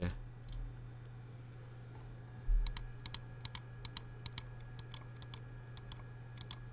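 Crisp keystrokes on a mechanical keyboard, a brief burst early then a steady series of separate clicks, close and moderately loud over a low hum.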